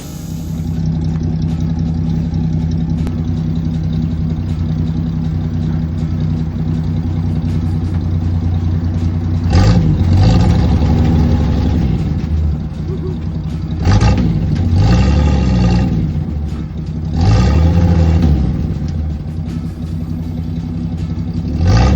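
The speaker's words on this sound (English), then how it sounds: "Brand new carburetor. Holding its idle now." A 1965 GMC truck engine with a new carburetor holds a steady, loud idle, then revs up in three distinct throttle blips that rise and fall before settling back to idle.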